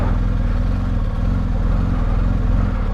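A 2019 BMW R1250 GS Adventure motorcycle idles close by in cold weather, a steady, loud, low, pulsing engine rhythm running evenly throughout with no talk.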